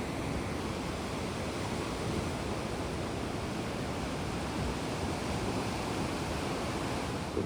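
Waves break and wash steadily onto a sandy beach at high tide, near Blyth and Seaton Sluice by the dunes, a constant broad roar of surf with light wind and no voices.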